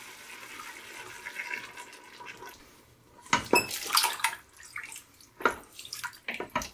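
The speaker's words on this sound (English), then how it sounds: "now I will add 1 can of coconut milk, 400 milliliters" A 400-millilitre can of thin coconut milk is poured into an Instant Pot. After a quiet start, gurgling splashes come in bursts for the last few seconds.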